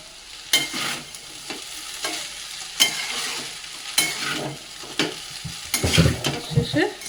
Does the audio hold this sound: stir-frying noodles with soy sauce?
yes